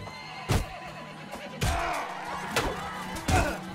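Horse neighing and whinnying in Mount & Blade Warband as it is slashed in battle, several sharp loud cries with impact thuds amid combat noise, and some voice beneath.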